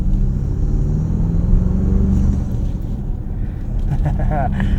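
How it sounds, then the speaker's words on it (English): Engine and intake of a 2024 Toyota Tacoma Trailhunter heard from inside the cab on the road, a steady loud low rumble that swells slightly as it pulls, with no talk. "You can hear that intake just right there out the passenger window."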